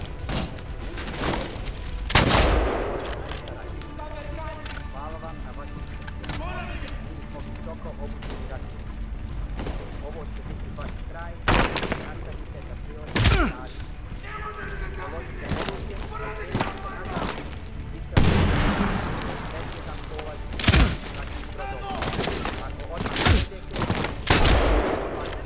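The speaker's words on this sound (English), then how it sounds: "With that grenade launcher. And you're actually destroying that building." In Medal of Honor: Warfighter, a grenade launcher fires and a building is destroyed. Repeated heavy booms and crashes burst over a constant layer of game noise, and a person talks throughout.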